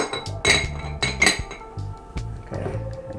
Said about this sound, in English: You got to be able to put a lid on there.